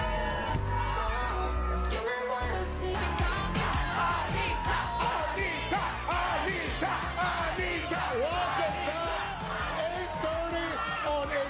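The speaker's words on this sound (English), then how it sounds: "the packed crowd is chanting" A packed crowd at a live Today Show morning broadcast for ANITTA, yelling and chanting loudly and continuously, with close voices cheering over a dense, roaring wall of sound.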